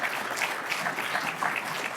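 Steady applause from a meeting audience for a guest speaker, a continuous dense patter of clapping at moderate distance with no pauses.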